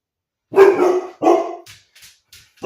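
Two loud, close dog barks in quick succession, followed by a few softer, faint yips trailing off.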